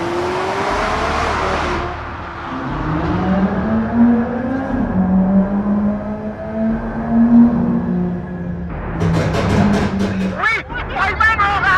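A McLaren 600LT sports car accelerates hard, its engine note climbing through the gears in rising sweeps, close and loud, with a sharp crackling burst of exhaust near the end. Someone talks excitedly over it.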